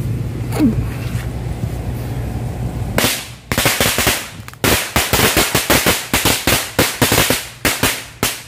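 A bundle of match-type firecrackers goes off in a rapid, loud, crackling string of sharp bangs after a brief fizzing fuse, near and intense.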